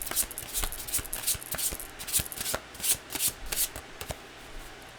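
A deck of tarot cards being shuffled by hand, a steady run of crisp riffling slaps and flutters repeating close up, with no talking.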